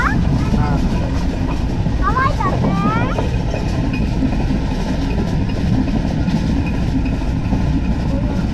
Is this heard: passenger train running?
yes